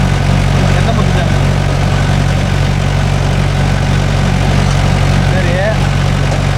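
A Mahindra 415 DI tractor engine idles loud and close, with a steady low rumbling drone that holds unchanged throughout.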